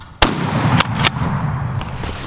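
Shotgun blast at a wild turkey during an eastern turkey hunt in Alabama, one sharp loud report followed by a couple of fainter cracks and outdoor rumble, with no talk.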